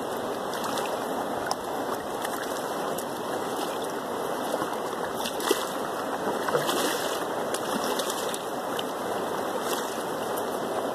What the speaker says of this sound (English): Let the waves carry the pan back and forth, like that.